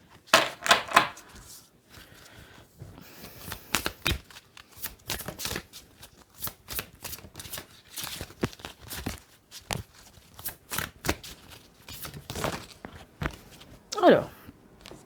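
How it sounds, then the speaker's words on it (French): Tarot cards are shuffled and mixed by hand in close, crisp bursts of riffling and sliding, repeated throughout, with a brief voice near the end. "On va bien les mélanger."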